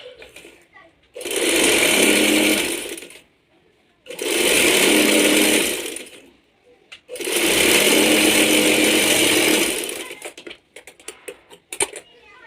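A sewing machine stitches fine pleats into a trouser, running in three loud sustained bursts of a few seconds each with short pauses between, followed by scattered clicks and handling sounds at the end.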